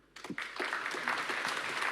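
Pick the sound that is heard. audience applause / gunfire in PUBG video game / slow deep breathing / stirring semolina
audience applause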